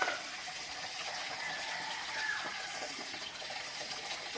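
A steady stream of water pours continuously at a moderate level, a soft hiss with no breaks and no voices.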